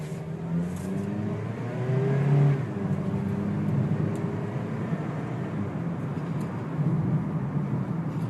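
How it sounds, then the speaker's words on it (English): A 2012 Honda Civic engine hums steadily from inside the cabin as it accelerates, its pitch rising and dropping briefly around a quick 5-speed automatic gear change, over road noise. "this car has a pretty quick shifting 5-speed auto."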